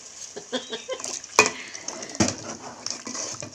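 Mutton curry is mixed in a pot with a spoon, producing irregular scraping and clanking strokes, some sharp metal knocks, and soft sizzling underneath.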